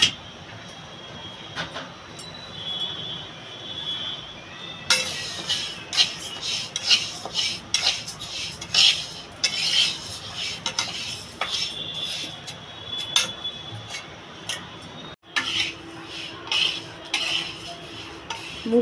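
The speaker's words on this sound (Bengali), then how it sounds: "কড়াইটা আমার গরম হয়ে গেছে, আমি এবার ডালটা ভালো করে ভেজে নেব।" Mung dal dry-roasting in a hot wok without oil, stirred with a metal spatula: a busy run of scraping, clinking strokes against the pan, close and moderately loud, with a brief pause near the end.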